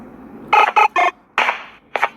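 A hen clucking in the Garten of Banban video game, a quick burst of three close clucks followed by two more separated squawks.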